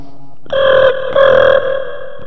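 A telephone rings in two loud, steady electronic tones, each lasting about half a second with a short gap between them, heard clearly and close with no talking over it.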